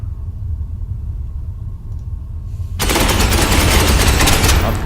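Bolter gunfire in the Space Hulk Ascension video game erupts suddenly as a loud, sustained roaring burst of rapid fire over a low rumbling background.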